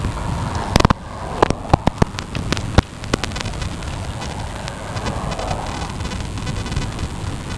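Strong gusting wind roars steadily into the microphone while cycling a historic battlefield trail near Brownsville, Texas, against a headwind of up to 54 mph, with a few sharp buffeting thumps early on and continuous broadband rumble throughout.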